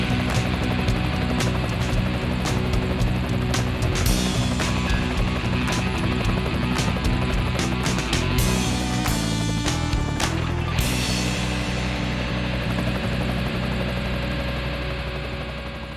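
Drone flying above people ice fishing on a frozen lake, producing a continuous loud engine-like buzz with shifting pitch and a few sharp knocks, fading slightly toward the end.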